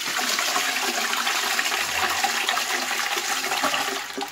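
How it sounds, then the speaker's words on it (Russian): A toilet flushes with slime going down, a loud continuous rushing gush of water that holds steady for several seconds, alone and close by. "давайте посмотрим, что будет, если этот слайм спустить в унитаз"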